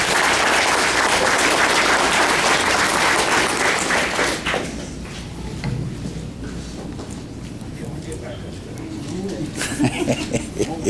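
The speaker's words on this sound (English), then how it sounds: "Let's give a big round of applause to the Anderson family." Loud applause from a graduation crowd at Red Lake Nation College fills the first four seconds, then drops to scattered, fading claps with faint murmuring, and a brief renewed burst of clapping near the end.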